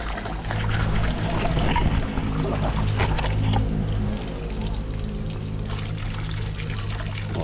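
Water from a hose pours steadily into a drum at a rural bahay kubo home, a constant rushing splash with low hollow resonance, loud and continuous throughout.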